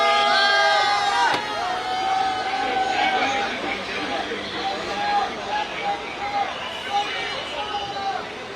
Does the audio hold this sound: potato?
no